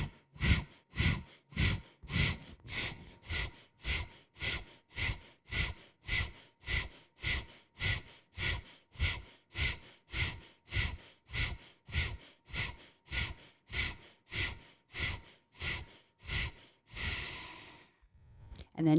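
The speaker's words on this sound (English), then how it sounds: "Take a full breath in and a full breath out." Forceful belly-pumped breathing from a deep breathing exercise: around thirty quick, evenly spaced breaths follow one another in a steady rhythm. A longer, drawn-out breath closes the round, all close and alone without speech.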